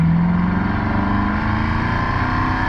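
Mercedes C63 with a four-cylinder engine accelerating on a Texas highway, a steady droning engine note heard from inside the car, rising gently and holding at a constant level throughout.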